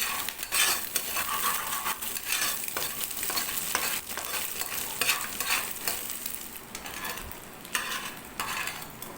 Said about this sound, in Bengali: ডিমটা 1 মিনিট মতো মিডিয়াম ফ্লেমে নাড়াচাড়া করতে হবে।